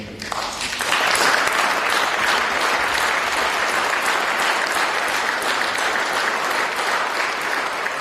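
Sustained, dense applause from a large audience after a speech by the EU High Representative, rising within the first second and continuing evenly throughout without talk.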